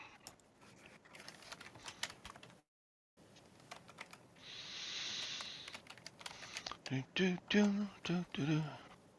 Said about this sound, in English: You're touching the keyboard again.